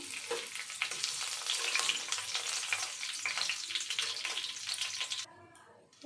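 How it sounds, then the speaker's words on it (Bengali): Whole garam masala and bay leaves frying in hot oil while making a paneer curry, a steady close crackling sizzle that fades into quieter hissing near the end. "এই তেলের মধ্যেই এবার আমি গোটা গরম মশলা দিয়ে দেবো, তেজপাতা"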